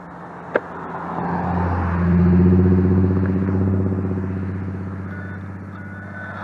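A stretched Arrma Typhon RC car with a 2400kv motor, geared down, starts with a click then rises to a buzzing, rumbling whine that swells and slowly fades as it drives off.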